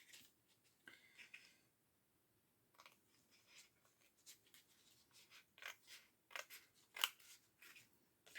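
Scissors snipping through paper while cutting out a handmade Christmas advent card, a series of short crisp close cuts in irregular bursts, quiet and alone with no talk.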